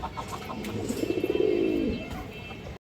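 A female pigeon in a loft gives a close, rolling coo that swells in the middle and fades, with soft rustling around it and a brief clatter at the very end.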